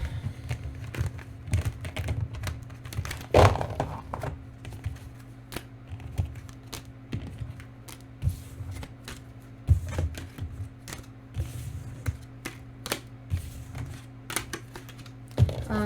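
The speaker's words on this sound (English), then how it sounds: "The shuffling of this is a little bit harder because they're quite big and stiff." Steady crisp riffling and soft clicking of large, stiff tarot cards being shuffled, continuous and close, with scattered sharper snaps and no voices.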